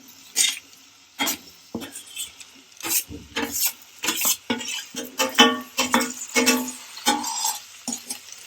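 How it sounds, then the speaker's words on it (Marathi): A spoon scrapes and stirs fried beans and potatoes into an onion-tomato masala in a pan, a series of short, close rubbing scrapes with light clinks against the metal, coming in irregular strokes. "आणि आपल्याला त्याला चांगलं मिक्स करून घ्यायचं आहे"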